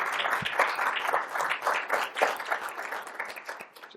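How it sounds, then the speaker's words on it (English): An audience at a law school talk on global tobacco control breaks into applause for a speaker's mother, brisk crowded clapping that holds strong and then begins to taper toward the end. "Mom, can you give us a big wave and a big round of applause for my mom?"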